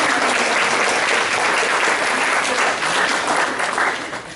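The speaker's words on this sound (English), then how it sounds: "give everyone a round of applause" A round of applause from the audience at a training session: thick, continuous clapping from many people, loud and sustained for several seconds, thinning a little near the end.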